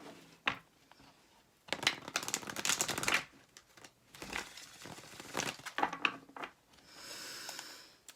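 Tarot cards are shuffled by hand in several bursts of crisp riffling and papery slapping, quiet and close, with short gaps between the rounds.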